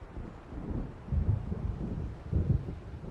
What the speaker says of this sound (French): On dirait qu'un orage approche.